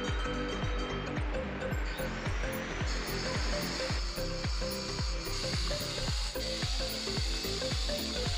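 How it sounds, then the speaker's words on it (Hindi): A spanner tightens a one-inch pipe union fitting on a borewell line, giving a rapid series of regular ratcheting metallic clicks and knocks close up, repeating steadily throughout without speech. "MABT पाना लगा के मैं इसे फिट करने वाला हूँ।"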